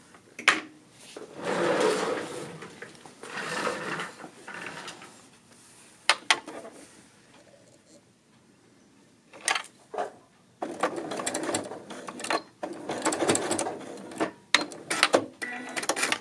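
Sewing machine running a straight stitch back and forth to tack a tunic seam, several short bursts of rattling whir separated by pauses and small clicks of handling, near and clear.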